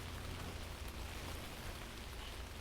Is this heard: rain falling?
yes